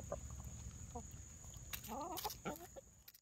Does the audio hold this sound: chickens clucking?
yes